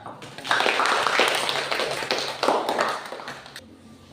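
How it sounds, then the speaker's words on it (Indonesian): A classroom of students clapping together, a dense burst of hand claps lasting a few seconds that swells twice and then fades. "Tepuk tangan."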